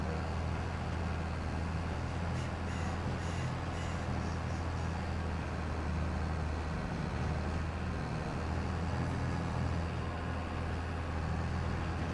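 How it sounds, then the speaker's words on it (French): A farm tractor's engine runs roughly in a continuous low rumble that stays steady throughout, faint and somewhat distant, with no talking. "Ah, le tracteur il est pas au meilleur de sa forme."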